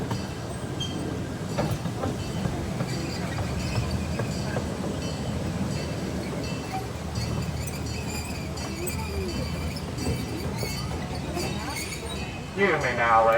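The St. Louis Zoo's Emerson Zooline Railroad train rolls along its tracks, a steady rumble with clicking wheels and a rising squeal near the end, while a voice announcement plays over it.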